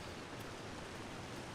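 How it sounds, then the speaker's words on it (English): Steady, dense rushing wash of a waterfall in The Long Dark on Interloper difficulty, a constant broadband roar held at even loudness throughout, with no voices. "back near the noisy waterfall"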